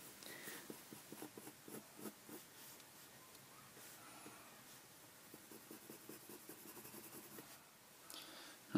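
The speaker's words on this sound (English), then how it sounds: "Just make sure that each stroke is very close together, and make sure that you use a sharp pencil too." A sharp pencil makes quiet, rhythmic shading strokes on paper, short scratchy passes repeated in close succession throughout.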